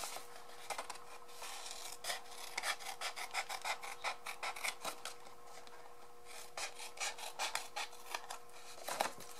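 A cardboard milk box is cut in a run of quick, faint, close crunching snips and scratches with uneven rhythm against a quiet background, with no voices over it.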